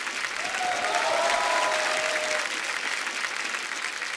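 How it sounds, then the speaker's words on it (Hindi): Steady, full studio audience applause on a TV comedy show, continuous and even throughout, with a brief faint tonal sound in the middle. "प्लीज प्लीज जोरदार तालियां करण सर के लिए।"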